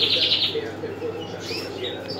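Breeding birds in a nest with newly hatched chicks: high, quick chirps and tweets in a short burst, then softer scattered calls over a low steady hum, fairly close.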